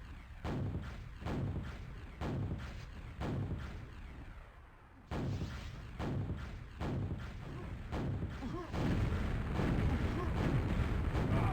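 Repeated rocket explosions in a QuakeWorld duel, a series of heavy booming blasts with short gaps between them, loud and close, building to a denser barrage near the end.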